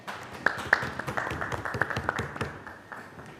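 A crowd applauds Hammad Rajput of Superior College Hyderabad as he is welcomed for a humorous speech. Steady, close clapping with a few sharp individual claps runs throughout and tapers slightly toward the end.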